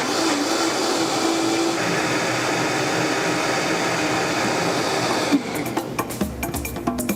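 A kitchen blender purees cilantro with a steady, dense whirring drone that holds evenly, then cuts off, leaving a few clattering knocks near the end.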